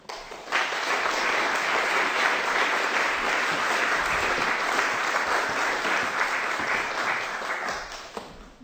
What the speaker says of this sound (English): So without further ado, please join me in welcoming Peter Lacey.